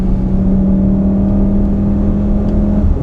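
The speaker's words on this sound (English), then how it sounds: "A lot of induction noise up front." A 2015 VW Golf R engine drones steadily with a deep, throaty induction hum from up front, pulling continuously without a break, heard from inside the car; no voices.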